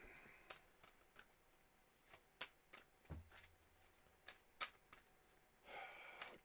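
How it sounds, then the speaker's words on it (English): A tarot deck is shuffled by hand in quiet, scattered riffles and soft card taps, close but faint, with a short burst of fuller riffling near the end. "Let me do your shuffling of this deck here"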